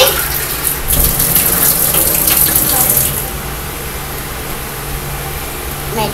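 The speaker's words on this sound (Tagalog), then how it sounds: "Lagyan nyo ng tubig." Water pours with a steady gushing splash into a pop it mold being filled to make ice, loud for about three seconds before settling into a softer trickle.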